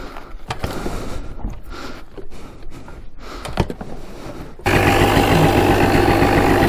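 Honda ATC 250R three-wheeler engine running, rough and uneven at first, then settling into a loud, steady idle with a constant drone for the last couple of seconds.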